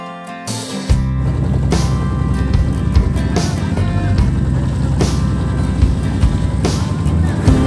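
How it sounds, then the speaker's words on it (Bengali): A boat travels along the Yamuna river, its engine giving a loud, steady drone with water wash throughout, starting after a brief quieter moment at the opening. "আমাদের নৌকাটি কিছু সময় যমুনার পথে আবার যমুনার চর মুখে চলতে চলতে বহু পথ পাড়ি দিয়ে চলে এসেছি অনেকটা"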